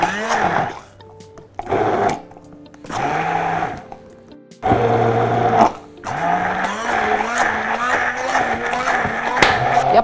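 Blender whirring through mushroom and potato soup in several bursts of varying length, the motor pitch rising and settling with short pauses between, loud and close.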